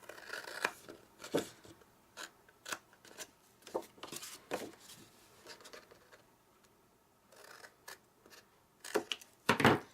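Scissors snip rectangles out of card to shape a box, a series of sharp, close crunching cuts at irregular intervals with quiet pauses between, ending in a louder cluster of snips.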